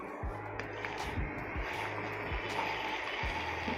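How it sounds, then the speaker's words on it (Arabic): A Sokany electric Nescafe frother whisk runs on its first, lowest speed, giving a steady mechanical whir with repeated low clunks at a regular rhythm, close by and fairly quiet. "نبتدي بقى نجرب الميكسر او الخفاق بتاع النسكافيه"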